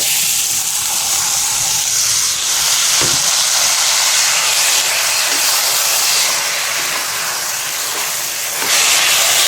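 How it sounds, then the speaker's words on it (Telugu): Drained soaked rice frying in a hot oil tempering, giving a loud, steady sizzling hiss that runs unbroken from start to finish, close by and with no voices. "ఇప్పుడు ఈ తాలింపులో మనం ఈ రైస్ వేసేసుకొని వేయించుకుందాం"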